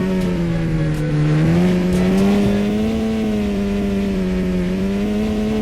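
An ATV engine drives across an off-road desert map in a video game, holding a steady loud drone with a gently wavering pitch that rises slightly midway, with no talk over it.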